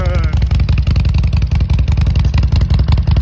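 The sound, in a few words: Harley-Davidson Forty-Eight motorcycle engine running with new exhaust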